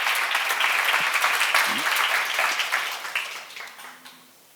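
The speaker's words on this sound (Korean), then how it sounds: "박수로 가주시 바랍니다." A church congregation applauds during a Bible seminar. Sustained, dense clapping from many people fills the room, then thins and dies away near the end.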